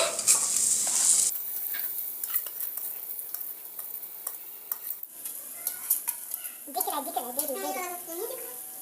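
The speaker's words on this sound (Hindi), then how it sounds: "अभी हम लोग इधर चावल डालेंगे।" Rice is added to a frying pot and stirred for veg chickpea biryani, with a spoon scraping the pot over a soft sizzle. A voice chatters near the end.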